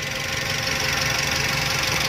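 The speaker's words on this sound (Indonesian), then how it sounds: "Mesin Baleno ini kapasitasnya 1500 cc, DOHC VVT, dengan tenaga maksimal itu 110 horsepower." Suzuki Neo Baleno 2008 with a 1500cc DOHC VVT manual engine idling, a steady continuous mechanical hum with a faint ticking knock, heard close and alone at even volume throughout.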